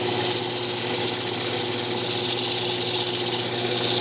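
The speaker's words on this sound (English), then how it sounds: "just finishing up sanding with 600 here" A wood lathe spins a bandsaw box while it is sanded with 600 grit paper, giving a steady, loud, even whirring hum that holds without a break.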